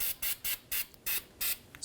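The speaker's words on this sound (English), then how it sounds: "Spray it on our inner tie rod" Six short, evenly spaced hissing bursts of an aerosol can spraying copper anti-seize onto a Toyota Tacoma inner tie rod, close and crisp, with quiet gaps between.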